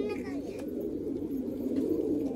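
Male pigeons let loose nearby give low, soft coos against a steady background hum, with a faint voice in the mix.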